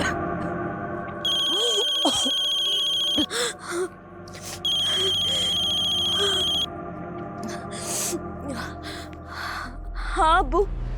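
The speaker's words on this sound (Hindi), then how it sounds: "कब से फोन ट्राई कर रहा हूँ, फोन नहीं उठा रही है।" A phone rings as a father calls his daughter, with two long electronic ringtone bursts close and loud. Gasps and strained vocal sounds come between and around the rings.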